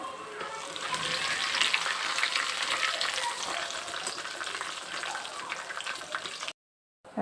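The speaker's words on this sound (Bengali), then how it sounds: "এখন গোটা মশলা দিয়ে দিচ্ছি।" Whole spices go into hot oil with browned onions, giving a bright, crackling sizzle that stays steady and close for several seconds before briefly dropping out at the end.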